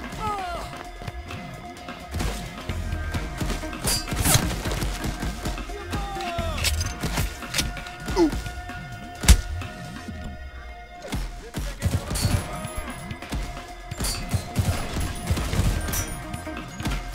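Sniper rifle shots in a video game ring out as sharp, scattered cracks over a busy, rumbling battle soundscape, with one especially loud, close report standing out midway.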